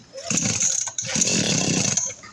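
Someone repeatedly tries to start an RBC411 two-stroke brush cutter that won't catch; it gives short buzzy bursts that sputter and cut out, fairly close, with a brief gap between attempts.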